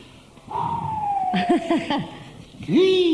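A human voice imitates seagull cries: a long descending squeal, then a run of short choppy calls and a final rising screech, loud and close.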